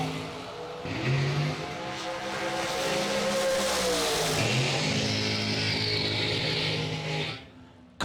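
Dragster engine at a bracket drag race, a shorty dragster roaring loud and steady for about seven seconds, its pitch sliding and rising as it launches and pulls away down the track.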